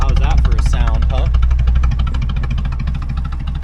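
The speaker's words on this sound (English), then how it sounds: "Well, it's idling." A 1986 Chevrolet Suburban with a 305 V8 idles steadily, a loud low rumble running throughout, with someone talking over it during the first second or so.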